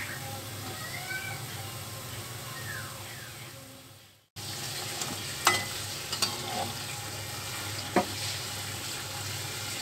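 Bitter gourd (karela) fries in oil until light brown, giving a steady, close sizzle with a brief drop out midway and a few sharp pops and crackles afterward; no one speaks.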